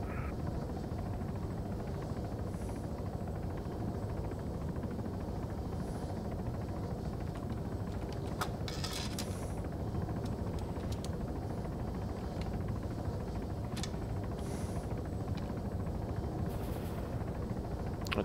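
Helicopter in the military shooter Arma 3 drones steadily at a loud, constant level throughout, with a few brief sharper transients like gunfire or impacts over the continuous rotor roar; no talking.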